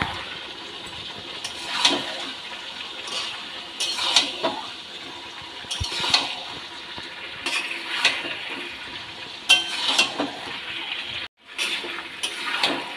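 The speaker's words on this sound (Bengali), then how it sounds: "এবার চিকেনগুলো দিয়ে দিলাম, ভালো করে এর সাথে মিশিয়ে দেবো" Chicken pieces being stirred into chilli chicken masala in a pan, with a run of soft scraping, clinking stirs at a steady pace over a low sizzle, close and moderately loud.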